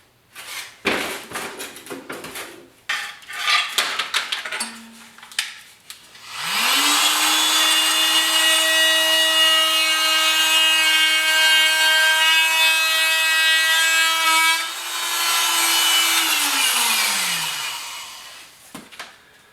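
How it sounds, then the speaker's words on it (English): An oscillating multi-tool with a fine blade cuts through a wooden lattice, a loud, steady buzzing whine held for about eight seconds that winds down, with scraping and clattering handling noises before it. "So I'm cutting this with my osculating saw."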